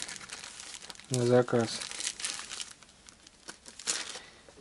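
A plastic package holding a paint-by-numbers kit crinkles and rustles in irregular bursts as it is unwrapped up close, while someone speaks briefly partway through.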